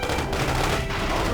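A bomb exploding in the mobile base-building battle game BattleField Commander, a short dense rumbling blast with crackling gunfire-like noise running through it.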